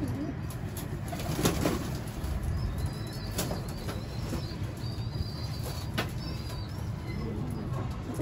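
Pigeons bathe in a loft, flapping their wings in repeated fluttering bursts amid soft cooing and a constant background wash, fairly close.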